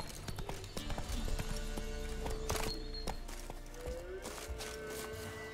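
Horse hooves clip-clopping and galloping in The Witcher 3, a quick irregular series of sharp thuds up close, with an occasional whinny and game ambience underneath.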